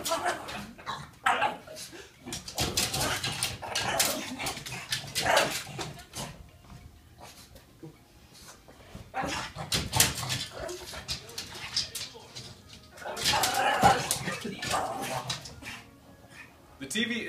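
Dog sounds, a pug barking and whimpering in reaction to a puppy party movie on TV, come in bursts of yips and whines over steady background noise, with stretches of quieter movement between.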